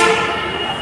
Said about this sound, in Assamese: Metro station.